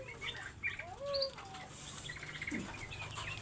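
Caged canaries, including a dark-colored female, give bright chirps and short rising tweets against a soft background hum, with one brief wing-flutter-like rustle.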